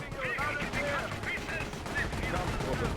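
Gunfire from the video game Company of Heroes, a dense stream of rifle and machine-gun shots with battle noise, loud and continuous, with other sounds from the game mixed in.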